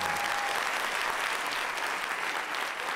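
Steady, dense studio audience applause runs throughout, loud and continuous with no break, heard alone without talk.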